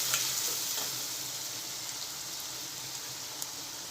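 Onions sizzling in a pan while cooking dal palak, a steady soft crackling hiss with occasional small pops, heard alone at moderate volume.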